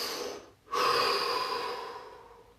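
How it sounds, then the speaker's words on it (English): A single deep breath drawn in through the nose and mouth, close and clear, long and steady and slowly fading, after a short exhale and a brief pause, with no talking. "Take a deep breath."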